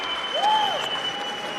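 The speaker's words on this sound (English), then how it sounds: "a massive round of applause to both fighters and a well-fought contest" Boxing crowd at Rainton Arena applauds after a fight, a dense continuous wash of clapping filling the hall, with a whistle-like tone rising and falling briefly above it.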